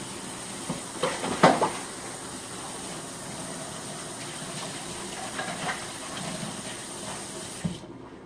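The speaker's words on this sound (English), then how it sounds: "I hear it boiling." A pot of four-bean turkey chili bubbling on a stove, a steady soft hiss and simmer with a few louder clinks and bubbling bursts near the start, heard close and alone.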